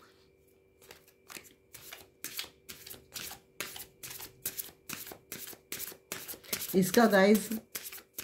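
A tarot deck being shuffled for a card draw: a steady run of crisp, rapid riffling bursts, fairly close, with a voice speaking briefly near the end.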